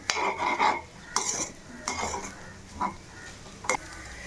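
Cooked rice tossed and mixed in a pan with vegetables for veg fried rice, giving a few scattered scraping clinks of a spoon against the pan with soft rustling between, close and fairly quiet.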